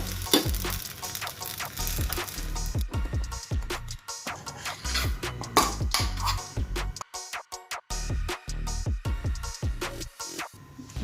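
Rice flour paste bubbles and sizzles in a pot on the stove while a spoon stirs and scrapes it in repeated strokes, close and fairly quiet, with brief pauses between bursts.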